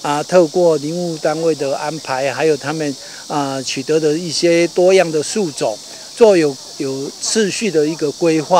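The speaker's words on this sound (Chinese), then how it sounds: "现在听得到的都是鸟的声音或蝉的叫声" Cicadas drone steadily in a coastal protection forest in Yunlin, Taiwan, a thin continuous buzz held under a man's nearly continuous speech.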